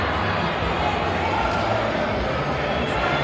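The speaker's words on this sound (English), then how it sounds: "Very good crowd here cheering on the ladies and later on cheering on the gents." Steady crowd noise at a women's basketball game, a broad continuous roar of cheering spectators filling the hall at constant level, with a commentator talking over it.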